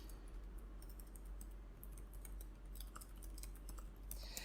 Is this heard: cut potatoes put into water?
no